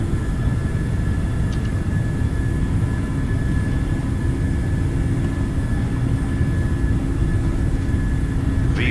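Boeing 737NG jet engines at takeoff thrust in Microsoft Flight Simulator, a loud, steady, even roar with a low rumbling base and a faint high whine, holding without break throughout.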